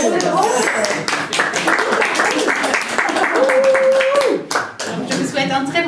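At a live comedy show in Marseille, a crowd claps and applauds loudly and continuously, with a brief tonal whistle-like sound partway through and voices mixed in under the clapping.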